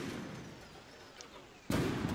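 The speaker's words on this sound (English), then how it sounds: "if I press the button to fire, the gun will fire" A single sharp gunshot bursts out near the end in the naval combat game From the Depths, loud and close after a stretch of low, quiet rumble.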